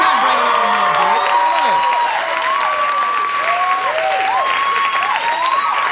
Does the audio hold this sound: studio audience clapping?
yes